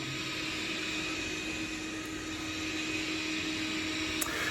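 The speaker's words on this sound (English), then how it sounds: "vacuum noise." A robot vacuum cleaner runs close by, giving a steady, even broadband whir with a faint constant hum underneath, unchanged for the whole stretch apart from one brief click near the end.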